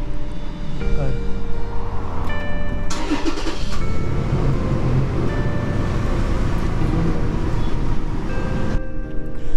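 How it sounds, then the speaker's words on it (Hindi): Toyota Land Cruiser Prado TZ-G 4.0 started by push button: a brief starter whir near three seconds, then a steady, close idle rumble under continuous talking in the cabin. "तो जैसे मैं इसका पावर का बटन दबाऊँगा, ये पुश स्टार्ट बटन"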